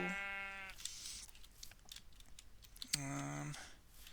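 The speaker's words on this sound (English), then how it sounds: "there was this sheep over here. Give me a wool, please." A sheep in modded Minecraft gives two short, nasal bleats, one at the start and one a few seconds later, with soft clicking and faint background noise between them.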